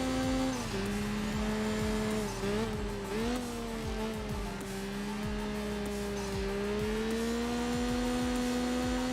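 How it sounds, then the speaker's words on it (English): A turbocharged car engine in the racing game Enthusia Professional Racing drones with a steady whining tone that dips and rises with gear and throttle changes, joined by faint tire squeal and clicks throughout. "This car sounds amazing though. With the turbo kit and everything."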